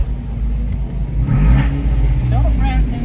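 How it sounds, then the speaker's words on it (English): A car engine revs on quiet back streets of Bad Ems, Germany, a steady low rumble swelling for a moment in the middle, with a voice speaking over it. "Stop revving."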